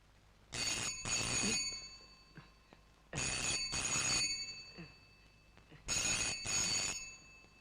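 A telephone bell rings in three bursts, each a pair of loud trilling rings separated by pauses, with faint room noise between.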